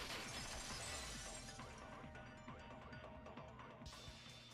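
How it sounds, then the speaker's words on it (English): A vase shatters in the video game Danganronpa, a faint crash of breaking ceramic that opens with a bright burst and fades into a lingering tinkling wash. "If it wasn't the window, then what broke to make that sound? A vase."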